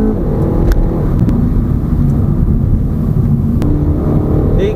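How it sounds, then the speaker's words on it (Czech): Loud car engine revving hard inside the cabin of a Dacia Duster with the new engine, a steady deep roar that holds for about five seconds with no talk. "ten randál, který to auto dělá, ten je neskutečný, ten je monumentální prostě"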